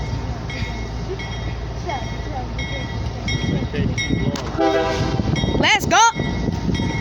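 CSX and Union Pacific freight trains pass at close range, a steady rolling rumble with squealing wheels and a loud horn blast near the end, while people talk excitedly over it.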